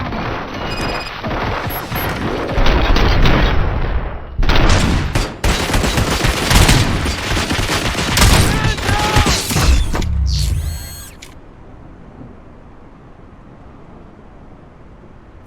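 Sustained bursts of gunfire and heavy impacts in the video game RoboCop: Rogue City, loud and dense for about ten seconds before dropping to a low ambient hum.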